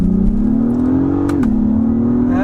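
A 2023 Acura MDX Type S accelerating hard up a highway on-ramp in second gear, its engine tone climbing steadily with a brief dip as a shift begins, heard loud and close from inside the cabin with no talk.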